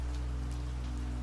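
Steady rain falls on a surface outside a hotel bedroom window at night, a soft, even hiss with light patters, close and continuous with no voices.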